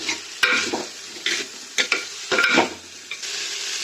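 Chopped tomato sizzles in hot oil in a clay pot while a spoon scrapes and stirs in short, repeated strokes, close by.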